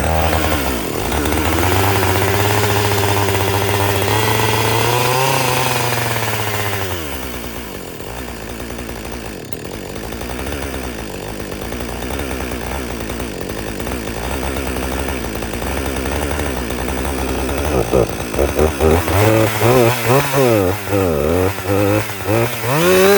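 A modern chainsaw engine runs loudly and steadily near the mic, its pitch shifting as the throttle changes, then settling into a rougher, uneven idle toward the end.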